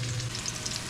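Ginger sizzles and fries steadily in a hot pan, a close, continuous crackle with a low hum underneath and no talking.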